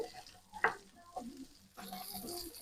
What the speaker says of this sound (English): we're going to cook this over a low heat, stirring occasionally for 5 minutes